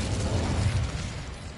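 An Incendio fire spell cast in the video game Hogwarts Legacy erupts as a brief dense crackling burst with a low rumbling whoosh, steady and close for about a second and a half.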